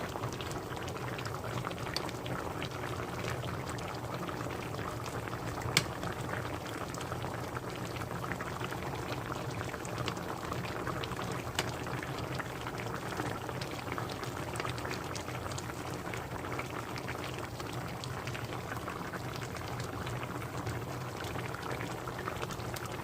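Braised tofu with pollock roe simmers in a pot, a steady close bubbling and gentle popping of sauce that runs continuously at an even level, with only an occasional sharper pop.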